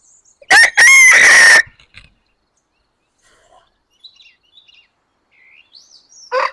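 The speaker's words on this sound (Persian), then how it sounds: "من صدا خروس در میارم، خروس جواب میده" Rooster at a beekeeping farm crowing in reply: a loud, close crow of a few harmonic bursts, followed by quiet with faint scattered chirps and a short final call.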